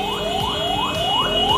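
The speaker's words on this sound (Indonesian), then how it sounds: "ada ambulan lagi lewat dulu sebentar" An ambulance siren wails in repeated rising sweeps, loud and close on a busy road beside a toll-road construction site, with steady traffic noise underneath.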